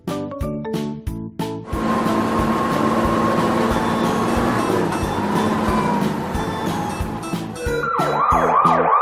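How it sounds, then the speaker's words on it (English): A fire engine's steady blaring tone sounds loud and near, then breaks into a rapid wailing siren sweep at the end. "Fire engine."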